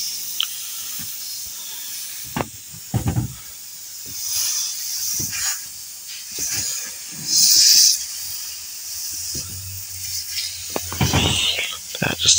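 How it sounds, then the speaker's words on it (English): Compressed air hisses from the disconnected slave valve of an Eaton truck transmission air system, in short bursts with one louder sustained blast, mixed with mechanical clicks and someone talking nearby. "I'm disconnecting that slave valve just to make sure I have air pressure"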